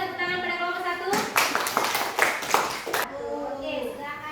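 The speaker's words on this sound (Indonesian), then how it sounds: "Kita berikan tepuk tangan pada kelompok 1." A classroom applauds a student group: after a moment of an adult voice, a burst of quick, dense clapping from many hands runs for about two seconds, then talking resumes.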